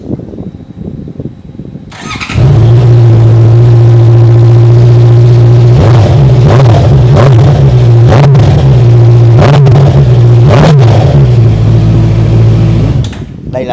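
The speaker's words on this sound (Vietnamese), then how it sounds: "Đây là tiếng bô móc" A Honda CBR650R motorcycle with an aftermarket exhaust starts up and idles loud and close with a steady deep drone, several sharp throttle blips rising over it.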